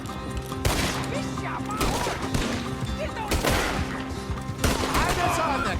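Rapid bursts of gunfire crack through a busy Red Dead Redemption 2 shootout, with repeated shots and crashes layered over a dense, loud backdrop while voices shout nearby.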